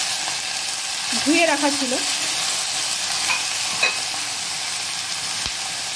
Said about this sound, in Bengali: কচু ফুলগুলো দিয়ে দিচ্ছি